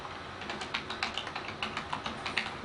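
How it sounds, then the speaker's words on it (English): Fingers type on a computer keyboard at a meeting, with quick, irregular clicks and taps close by, sounding alone with no talking. "I have to slow down my typing, it's hard"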